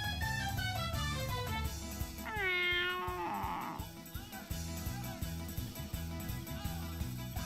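A cat meows once in a visual novel game scene, a drawn-out rising-falling cry standing out clearly over looping background music, followed by a brief rustling scuffle.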